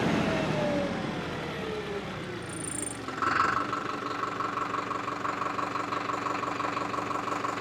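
A Farmtrac 6055 WorldMaxx 4WD tractor with a 55 HP engine idles close by, a steady, even low rumble after a brief rise in revs near the start, holding smooth and constant without talk.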